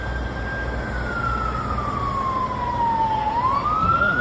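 A fire truck siren wails steadily as the engine arrives at a burning car outside Kaohsiung airport, its tone sliding slowly downward and then rising again as it draws near over a constant road rumble.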